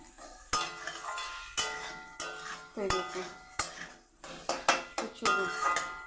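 Potatoes are stirred into a thick gravy masala in a pan, giving a series of separate scraping clinks and clatters of a spoon against metal, roughly one every half second, over a faint sizzle.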